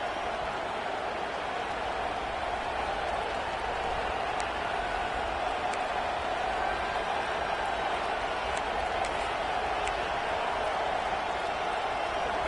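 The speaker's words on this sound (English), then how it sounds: "Here comes the noise from this big crowd in Happy Valley on third down." A steady, dense roar of a big stadium crowd at Penn State's Happy Valley on third down in the video game College Football 26, continuous and unbroken, with no single voices standing out.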